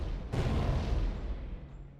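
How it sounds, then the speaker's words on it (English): Gunfire from the Nautilus airship in Code: Realize roars in one heavy, booming barrage, a loud blast swelling early and then fading away over a couple of seconds, with no voices. "the barrage of Nautilus gunfire roars through the skies"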